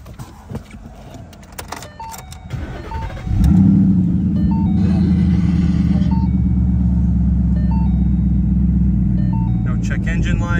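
A 2013 Ford Mustang Boss 302 V8 cranks and fires after a few seconds of door chimes, then settles into a loud, deep, steady idle rumble that lasts to the end.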